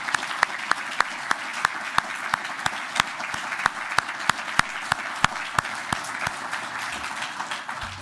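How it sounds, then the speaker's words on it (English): An audience at an investiture ceremony gives a sustained round of applause, a steady wash of many hands clapping, with a few sharp nearby claps standing out in a regular beat. "can we just have one big round of applause again for Oscar and Imad?"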